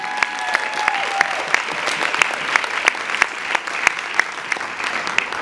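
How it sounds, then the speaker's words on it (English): A conference audience at a world council gathering gives a steady round of applause for a young delegate, dense clapping heard alone with a few sharper claps standing out near the front. "So welcome, welcome, and a round of applause."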